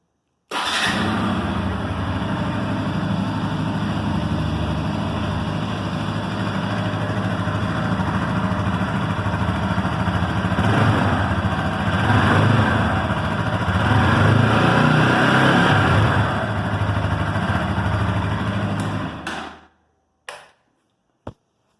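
Loud, steady rumble of an idling Bajaj Pulsar NS200 fuel-injected engine through its underbelly exhaust, running continuously before abruptly cutting off, followed by a couple of clicks.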